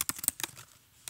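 A few quick computer keyboard keystrokes as code is typed, close and crisp, in a short burst that trails off before one last tap.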